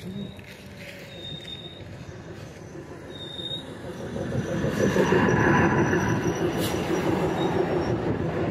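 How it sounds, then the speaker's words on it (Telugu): The Kacheguda–Raichur passenger train rolls into Makthal railway junction and slows to a halt, a steady rumble of wheels on rails swelling louder midway with faint squeals and clicks, heard from the platform. "కాచిగూడ నుంచి రాయచూర్కి వెళ్ళవలసిన ట్రైన్ మక్తల్ రైల్వే జంక్షన్కు వచ్చి ఆగి ఉన్నది"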